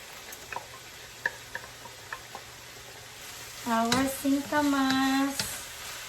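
Pork, carrots and singkamas fry in a pan with a gentle sizzle and occasional utensil ticks, then a person speaks nearby over the cooking.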